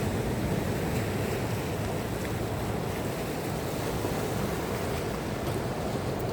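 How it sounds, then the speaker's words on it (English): Ocean waves breaking along Malaga Cove, a steady broadband roar of surf with wind buffeting the microphone, continuous and loud throughout with no voices. "That's pretty impressive waves."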